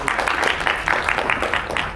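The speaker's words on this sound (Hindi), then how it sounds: "इनके लिए बहुत सारी तालियां हो जाए।" Brief applause from the crowd at the Jatt & Juliet 3 trailer launch, welcoming Dinesh Aulakh of Speed Records; a short burst of clapping with rhythmic pulses.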